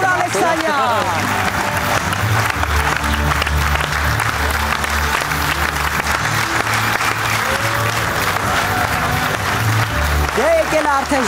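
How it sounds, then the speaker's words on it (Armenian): A large audience applauds loudly and continuously at the Humori Liga 2 final, a televised comedy league show, with dense steady clapping that fills the whole stretch without a break. "բարձր ծափարեք օլիմպիական չեմպիոն Արթուր Ալեքսանյան։"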